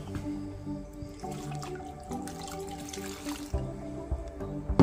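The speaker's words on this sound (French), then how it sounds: "je vais rajouter aussi une autre tasse d'eau" Water from a cup poured into a cooking pot of pumpkin and panela, a steady liquid splash and trickle with dripping, close and moderately loud, with no speech.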